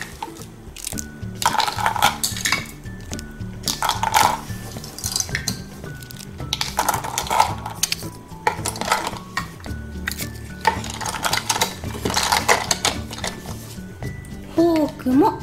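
Toy dishes, a fork, bowls and plastic parts being packed into a toy pot, with repeated light clinks and clattering bursts up close while a voice talks throughout.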